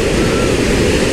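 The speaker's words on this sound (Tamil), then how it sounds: "ஸோ இந்த ஒரு கதவுலேயே இவ்வளோ தண்ணி போகுதுனாக்கா" Water rushes with great force through a single open gate at the KRP dam, a loud, steady, broadband roar close to the microphone, with no clear speech.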